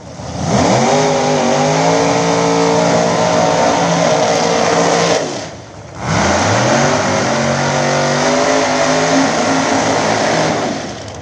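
Nitrous-fed Pro Mod drag race cars at a Big Dog Shootout event roar at full throttle in two long, loud passes with a brief dip in between, engine notes climbing and shifting as they accelerate down the strip.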